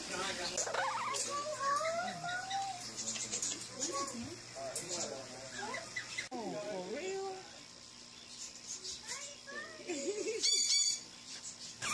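A rowdy pet parrot squawks, chatters and whistles in bursts while flapping its wings, close by and fairly loud, as a person talks to it now and then.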